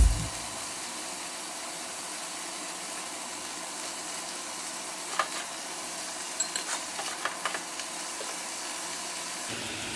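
Shrimp sizzle in a hot pan with a loud, steady frying hiss that holds throughout, broken by a few small pops and stirring clicks near the end.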